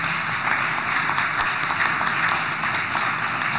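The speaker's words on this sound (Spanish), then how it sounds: "Aplauso para ellos." Audience applause in a hall, a steady wash of many hands clapping at even loudness throughout, with no talk over it.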